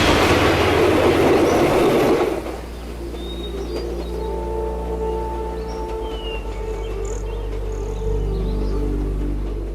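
Darjeeling Himalayan Railway train on its climb, a loud rushing passage that gives way to a steady low rumble and droning engine hum with faint bird chirps in the background.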